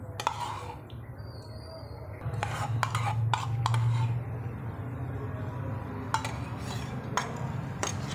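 A spoon scrapes and clinks against a plate while tamarind juice is mixed through rice for Andhra-style pulihora. Irregular metallic taps and rubbing sounds come close by, under a low background hum.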